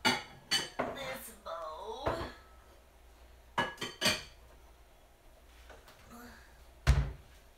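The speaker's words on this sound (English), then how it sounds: "I'm going to get a bowl." Someone gets a bowl out in a kitchen while making packet soup, with scattered clattering dishes, a cupboard thunk and a sharp knock near the end, all close and alone with no talking.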